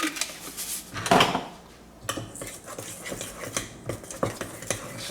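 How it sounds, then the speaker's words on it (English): A utensil stirs a seasoning mix of garlic powder and salt for fried chicken in a bowl, giving repeated scraping clinks and taps with an irregular rhythm, close and fairly clear. "Just stir it up."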